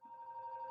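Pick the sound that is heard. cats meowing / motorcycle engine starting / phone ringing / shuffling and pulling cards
phone ringing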